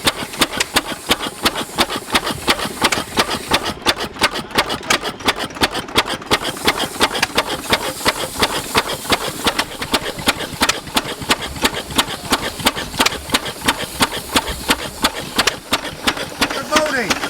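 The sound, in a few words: vintage engine running at heritage transport show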